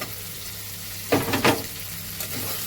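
Chunks of taro and potato dropped into hot oil with spices, a short burst of loud sizzling and stirring over a steady background hiss.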